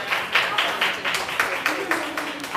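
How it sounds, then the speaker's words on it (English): An audience claps at a meditation-themed talk event in Shirlington, Virginia, the applause coming in repeated surges of dense clapping over about three seconds and staying moderately loud throughout. "Give me a big hand of applause."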